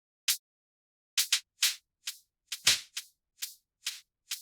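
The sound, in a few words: hi-hat loop cut from a longer loop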